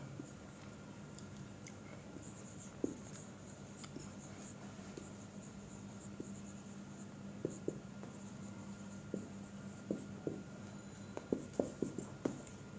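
Pen or marker writing out an example during a class, a faint continuous scratch over low room hum with scattered small taps that grow busier toward the end, no talking.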